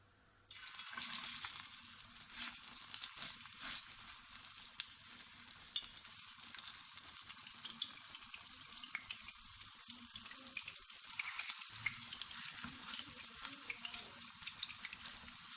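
Chapli kabab patties fry in a little oil over a low flame, a steady close hiss of sizzling that starts abruptly and runs throughout, with occasional soft clinks and bubbling, no voices.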